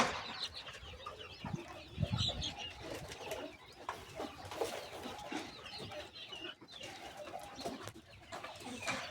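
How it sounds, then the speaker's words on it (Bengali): Egg-laying quail kept in a coop chirp and cluck in a busy, overlapping chorus, fairly close but quiet, with soft coos and rustling among them. "এই যে আমার কোয়েল পাখিগুলো আছে এখানে।"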